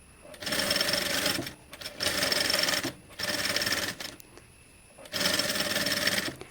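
A sewing machine stitches a kids' back-open designer top in four short bursts of rapid whirring, separated by brief pauses, close and clear.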